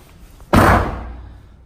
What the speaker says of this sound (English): That's the craziest sound I've ever heard for a door closing.